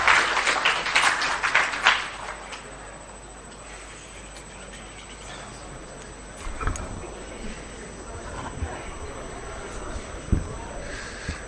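An audience in a hall at a political party public forum on the national budget claps in a short, fairly loud burst for a speaker coming to the podium, then it fades into quiet room noise with scattered knocks.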